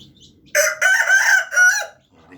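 A rooster crows once, loud and close, with a drawn-out cock-a-doodle-doo among morning chickens and chicks, framed by quiet background noise before and after.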